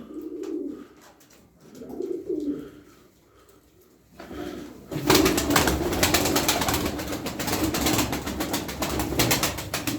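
Tumbler pigeons coo in low, rolling bursts at first, then a louder, dense fluttering and rustling rush takes over and continues steadily to the end.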